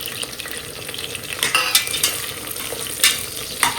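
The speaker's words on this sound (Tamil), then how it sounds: "இப்போது வெங்காயம் இந்த வெங்காயம் இந்த மாதிரி வதங்கினதுலையே நம்ம வந்து முந்திரி சேர்த்துக்கலாம்" Onions sautéing in a pan with cashews being stirred in, a close sizzle broken by repeated scraping stir strokes and light clinks of a spoon against the pan.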